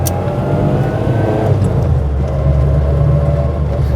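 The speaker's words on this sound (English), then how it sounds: "That classic noisy gearbox, because it's drop down gears that take the drive from the crankshaft down to the gearbox" Whining, noisy drop-gear gearbox of a wooden six-wheeled Hustler 6 built on Mini mechanicals, heard from inside while driving, a loud steady drone with engine hum.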